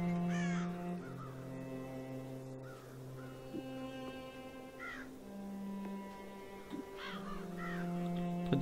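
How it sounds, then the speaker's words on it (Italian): Crows caw repeatedly in the Child of Light video game, several distinct harsh calls spaced over a steady ambient musical backdrop. "Apparentemente ci sono dei corvi qui"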